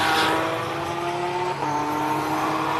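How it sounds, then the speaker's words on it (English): A 3-liter triple turbo nitrous diesel BMW race car howls up a hillclimb course, its engine droning loudly and steadily with a brief dip mid-run, no talk over it. "Gary Martin's in probably the world's craziest BMW, a 3-liter triple turbo nitrous diesel"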